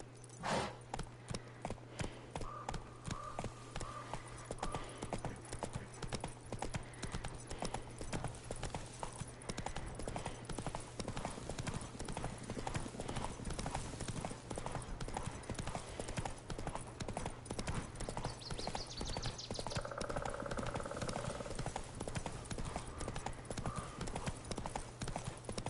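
A horse gallops in The Witcher video game, with rapid, rhythmic clip-clop hoofbeats that keep up a steady, loud pace throughout, over a low hum with faint game sounds.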